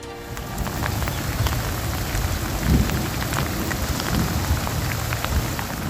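Heavy rain pours steadily during flooding, a dense, loud hiss of drops beating on surfaces with a low rumble underneath.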